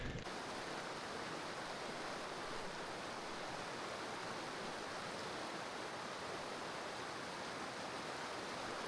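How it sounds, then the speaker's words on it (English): A creek pours and tumbles over falls in a narrow rocky gorge, producing a steady, even wash of water noise with no voices. "In this defile, the creek is bound by the walls and does not have the freedom to explore. The water does fall in many places"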